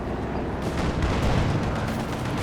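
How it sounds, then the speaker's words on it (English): An artillery barrage in the World War II strategy game Company of Heroes 2 fills the clip with a dense, continuous rumble of overlapping booms and blasts, loud and sustained with no clear gaps. "No, doing a barrage."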